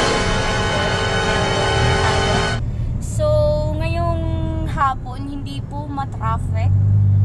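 Cars passing on Commonwealth Avenue in Diliman, Quezon City, a steady roar of passing traffic with a loud tonal engine or horn-like drone early on, then lighter traffic with a voice and other tonal sounds over it.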